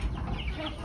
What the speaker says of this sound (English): Look at these big old fat chicky chicks.